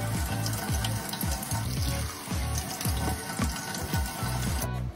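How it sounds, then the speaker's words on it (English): Warm water pours into an empty plastic water bottle, a close, continuous splashing and gurgling trickle that runs for several seconds with no voices. "So we got the warm water put in"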